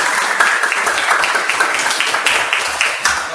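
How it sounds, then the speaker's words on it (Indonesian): Applause for the student groups in a Grade 12 science-stream Indonesian history class, steady dense clapping from many hands throughout, close and fairly loud. "aplaus dulu untuk semua kelompok"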